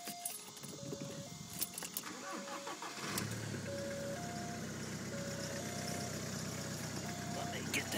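A VW Passat diesel engine cranks and starts around the midpoint, then settles into a steady, loud idle with a diesel clatter; keys jangle and a voice speaks before the start.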